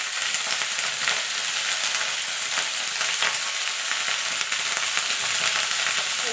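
Potato, cauliflower and onion stalks with salt and turmeric sizzle steadily in a hot pan, with occasional scraping stirs breaking the continuous frying hiss.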